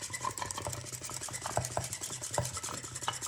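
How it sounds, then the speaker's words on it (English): A bamboo matcha whisk stirs matcha in a flat-bottomed bowl, giving a quiet, rapid scratchy swishing with quick repeated strokes, close and alone. "So I'm going to go in and just start whisking."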